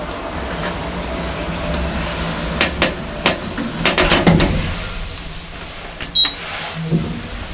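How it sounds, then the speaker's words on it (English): Doors of an old Bennie lift closing: a run of sharp metallic clanks and rattles builds to a heavier thud, then one more clunk over a low background hum. "Doors closing."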